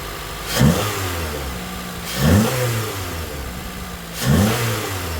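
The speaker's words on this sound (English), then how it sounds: "I'm gonna rev it up." A 2009-2014 Acura TSX engine fitted with a cold air intake idles, then revs up three times in quick surges, each rising roar falling back to a steady idle.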